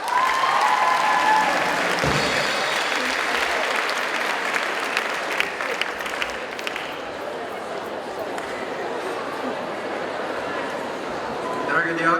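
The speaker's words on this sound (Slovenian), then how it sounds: "dajmo en aplavz." Loud audience applause at a school event as a headmaster is invited to the stage, sustained dense clapping that gradually thins, with a voice briefly audible over it.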